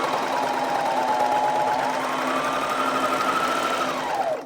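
A serger stitching a test seam on fabric at a longer stitch length with cutting on, a steady close mechanical whir and rapid hum running continuously for several seconds before slowing to a stop, with no talking.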